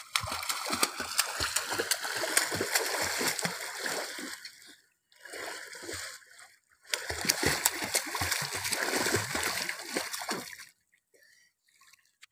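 Swimmers splash in a hotel swimming pool, with two long bursts of busy, close splashing and churning water separated by a short quieter stretch, then near silence at the end.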